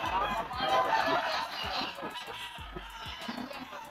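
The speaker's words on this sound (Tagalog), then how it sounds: "Napakaraming manok mga tol." A crowd of chickens at a pet market clucks and murmurs continuously, mixed with background chatter and occasional thumps, busy and close.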